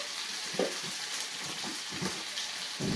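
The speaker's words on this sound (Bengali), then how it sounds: "দেখো এবার মশলাটা অল্প ভাজা ভাজা হলে এর মধ্যে দিয়ে দেবো" Spices sizzle in hot oil in a pan for a vegetarian cabbage curry, a continuous close frying crackle broken by short bursts of stirring and scraping.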